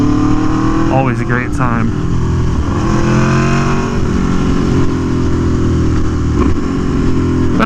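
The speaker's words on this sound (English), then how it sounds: "even just cruising like this on my Tuono" An Aprilia Tuono V4 1100 motorcycle with an SC Project exhaust cruises at a steady pace, its engine a constant, close, throaty drone. Someone talks over it throughout.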